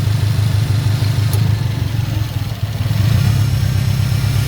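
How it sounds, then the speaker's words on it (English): A Subaru engine idles steadily with the AC running, its low, close rumble rising and dipping slightly in a fluctuating idle, with one brief sharp tick partway through. "I bet if you turn the AC off, the idle wouldn't fluctuate up and down."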